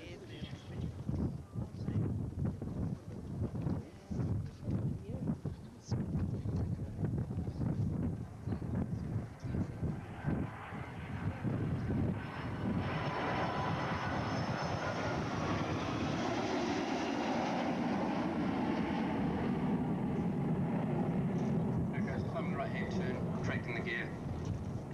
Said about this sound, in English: the aircraft's now coming in for a low approach and overshoot in the landing configuration